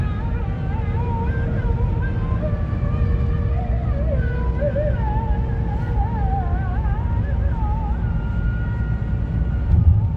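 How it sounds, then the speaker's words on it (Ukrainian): A mullah's call to prayer drifts from a distance as a wavering, melismatic sung voice, faint over the constant low rumble of a moving car on a road trip through Turkey. "О, мула співає."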